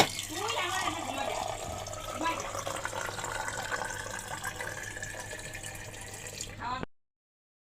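Water poured at home in a steady, continuous splashing stream for several seconds, fairly close, with a voice speaking under it before it cuts off abruptly.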